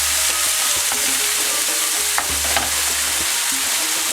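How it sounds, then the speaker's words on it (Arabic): Onion and garlic frying together in a little hot oil for a semolina kesra filling, giving a steady, close, continuous sizzle with a few faint stirring clicks and no talking. "حطيت شويه زيت يسخن وباش نضيف عليها البصل والثوم نخليهم يتقليو شويه مع بعضهم"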